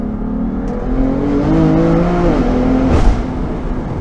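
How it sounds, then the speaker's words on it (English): BMW M3 Competition under way on a short test drive, its engine note climbing steadily as it accelerates, with a brief louder whoosh near the end and no talking. "So now for a quick test drive to see if we have boost failures."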